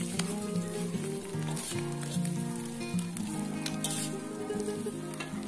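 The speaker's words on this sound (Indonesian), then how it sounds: "Lalu kita tambahkan dengan daging entok yang sudah kita iris-iris tadi. Oseng sampai setengah kering." Sliced muscovy duck meat is stir-fried in a pan for spicy fried rice with petai: a loud, dense, continuous sizzle with turning strokes, under steady background music.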